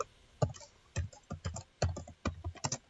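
A computer keyboard is used to type a short prompt into an AI design tool, with about a dozen distinct, close keystrokes in small uneven clusters and quiet gaps between them.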